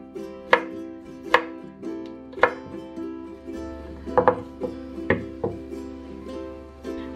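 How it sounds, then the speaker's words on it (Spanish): A knife chops five garlic cloves on a board for seafood rice, with about a dozen crisp, close chopping taps in an irregular rhythm over a steady tonal hum. "Primero vamos a cortar unos ajos, son 5 ajos los que voy a poner"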